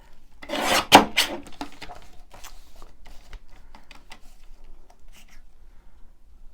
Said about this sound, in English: Could you hear the bit more the cogs whirring?